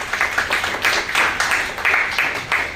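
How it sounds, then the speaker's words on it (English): A room of people applauds candidates at a student society election forum, a sustained run of uneven, overlapping claps at moderate level, with no one speaking. "Let's give them a round of applause."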